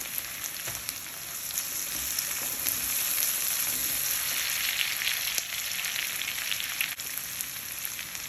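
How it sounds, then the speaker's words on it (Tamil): Capsicum is stir-fried in a hot pan for schezwan noodles, producing a steady sizzling hiss with occasional sharp crackles and scraping, close and alone. "இப்போ நம்ம குடைமிளகாய் ஆட் பண்ணலாங்க."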